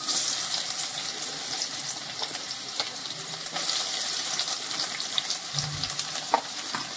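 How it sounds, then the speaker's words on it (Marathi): Sliced onion sizzling steadily in hot oil in a kadhai, a continuous crackling fry with occasional stirring clinks, close and moderately loud with no talking. "तेल गरम झालंय, ते झालं की हा आपण जो उभा चिरलेला कांदा आहे तो आधी तेलावर टाकायचा"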